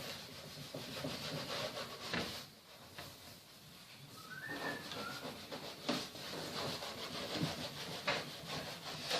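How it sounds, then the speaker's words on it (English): Iron being worked along the rims of a model aircraft wing to press ply sheeting into place, a continuous scraping, rubbing sound with faint bird calls in the background. "work along each rim to iron the sheeting into place."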